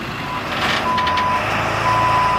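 A diesel truck delivering a load of wood chips, a loud engine rumble under repeated high reversing beeps, steady and close, with no talk.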